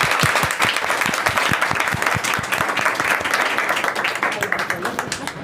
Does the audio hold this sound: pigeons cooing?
no